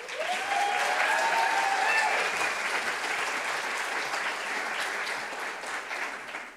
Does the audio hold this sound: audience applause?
yes